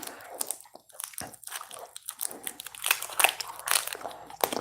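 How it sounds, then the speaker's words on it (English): Double Bubble bubble gum being chewed up close, with crisp wet smacks and crunchy bites coming in an irregular rhythm, no voices. "I'll chew more double bubble for you guys."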